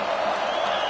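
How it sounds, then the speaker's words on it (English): A stadium crowd at a national championship football game roars in the final minute of regulation, a brief, dense, steady wash of cheering voices. "The crowd is really getting into it."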